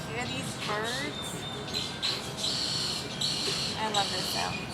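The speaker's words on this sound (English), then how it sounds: "Do you guys hear these birds?" Birds sing outdoors in short, bright whistled chirps, scattered and moderately close, mixed with a soft voice and light background noise.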